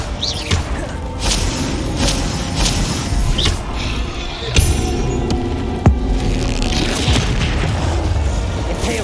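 Confringo spell blasts in Hogwarts Legacy, heavy booming impacts and throbbing low rumble recurring through the combat, loud and close with sharp cracks scattered among the rolling thuds.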